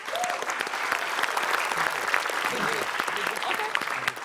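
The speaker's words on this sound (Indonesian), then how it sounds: "Kita kasih tepuk tangan dulu." A television comedy quiz show's studio audience gives a steady wash of applause at moderate distance, with voices talking over it throughout.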